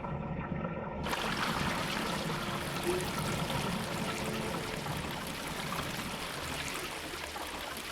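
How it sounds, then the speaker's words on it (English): Flowing water in the puzzle game Quern: a steady, full rushing wash that starts abruptly about a second in and continues unbroken and fairly close, with no talking. "I can hear water, but I'm not sure."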